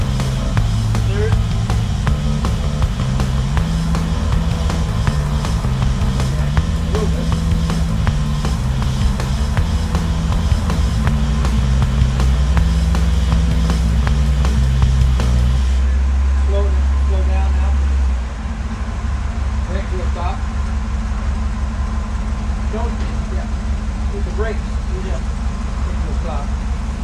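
A Chevrolet Nova with a new Turbo Hydramatic automatic transmission drives steadily, its engine droning loud and close with low stepped tones shifting as it moves through the gears, cabin noise constant throughout.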